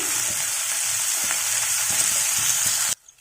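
Ginger, garlic cloves and tomatoes fry lightly in a pan on the stove, giving a steady close hiss and sizzle with faint stirring taps, cutting off abruptly near the end.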